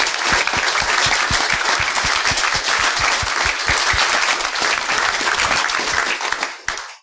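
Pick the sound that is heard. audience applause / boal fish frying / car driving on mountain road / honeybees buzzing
audience applause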